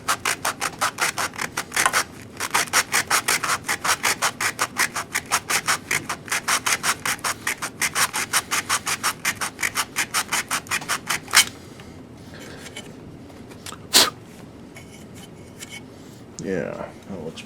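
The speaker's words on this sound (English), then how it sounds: "I like to take a little sandpaper and sand me a little spot here." Sandpaper rubbed back and forth on a small spot during a 1966 Fender Deluxe Reverb blackface clone amp build, a fast steady train of close, even rasping strokes for about eleven seconds, then stopping, followed by a faint tap and a brief voice.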